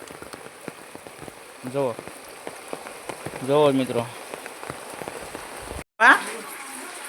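Steady hiss of rain falling on a surface, with faint birdsong and a person briefly speaking over it.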